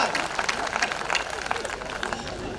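Audience applause at a Hindi comedy poetry show, a dense steady wash of clapping and crowd noise throughout, fairly loud and continuous without a clear break.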